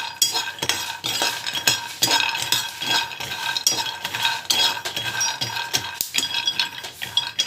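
Food sautéing in a pan, with a metal spoon scraping and clinking in quick repeated strokes over a steady sizzle, close and busy throughout, with no voices.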